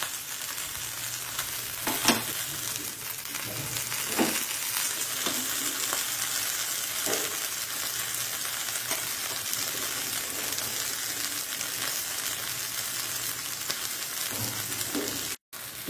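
Mackerel fish fry in oil over a low flame, a steady close sizzle and crackle with occasional louder pops, heard alone without talk.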